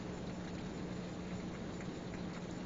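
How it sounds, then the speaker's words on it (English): Steady rain falling outside a house in Oklahoma, a soft, even hiss of drops heard from indoors, faint and continuous with no talking. "You can probably also hear some rain because I'm in Oklahoma"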